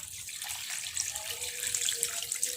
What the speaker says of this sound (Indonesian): Selanjutnya di sini kita tentunya tambahkan air